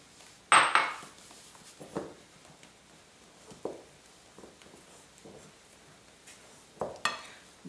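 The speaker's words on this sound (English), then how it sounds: "I mix this well" Flour and baking powder being mixed in a bowl for walnut apricot tarts, with a sharp clatter of utensil against the bowl near the start, softer scraping and stirring knocks through the middle, and another clink toward the end.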